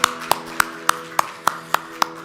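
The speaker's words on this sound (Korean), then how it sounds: "하나님 앞에 영광의 박수 올려드리도록 하겠습니다." A worship congregation claps in a steady rhythm: about eight sharp, evenly spaced claps over a soft sustained musical hum.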